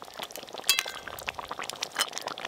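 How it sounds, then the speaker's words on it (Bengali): Katla fish kalia gravy bubbles steadily in a pot, a dense close crackle of popping bubbles with a metallic clink near the start, no voices. "গ্রেভিটা একদম গুটগুট করে ফুটা শুরু হয়ে গেছে।"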